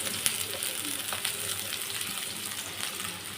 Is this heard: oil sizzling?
yes